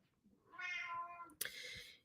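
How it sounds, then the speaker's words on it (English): A cat named Ocean gives a drawn-out meow followed by a second sharper, brighter meow, close and clear over a quiet background. "Here comes Ocean and his meowing."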